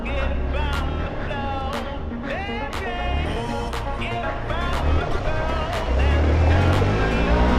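An off-road motorcycle on a hill trail ride toward Rajmachi fort runs hard at full throttle, its engine roaring and rising in pitch continuously up close, growing louder toward the end.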